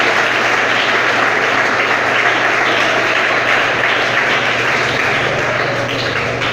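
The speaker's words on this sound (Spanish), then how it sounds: "Den el aplauso siempre al Señor fuerte." A church congregation applauds loudly and continuously, a thick, steady roar of clapping from a packed room that fills the whole clip, with a low hum beneath it.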